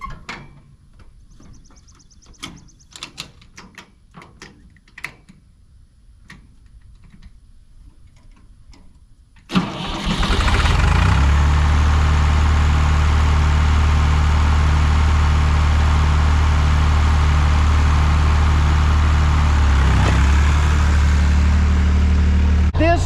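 Quiet clicks and small mechanical taps give way to a big tractor engine catching, then a loud, steady diesel rumble that continues to the end.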